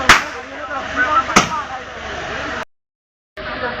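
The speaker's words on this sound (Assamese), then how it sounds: "আৰু গাইছ এইফালে ফটকা মাৰি আছে, এইটো আমাৰ কইনাৰ ফালৰ ফটকা" Two sharp firecracker bangs go off about a second apart at a wedding, set off by the bride's side, each followed by a short echo over faint background chatter.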